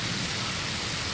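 Heavy rain pours down in a steady, dense hiss with no breaks, loud and close, during a stormy outing in Houston, Texas.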